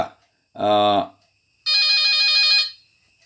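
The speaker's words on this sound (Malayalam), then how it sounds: "ഒരു ഫോൺ വന്നിട്ടുണ്ട് ക്ഷമിക്കാം ഹലോ" A mobile phone ringtone goes off in the middle of a Malayalam church sermon: a short bright tone burst, a pause, then a longer ringing melody, loud and close.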